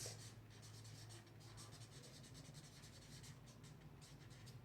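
Pen or pencil writes a heading on a sheet of paper, faint close scratching strokes in short bursts repeating over a few seconds.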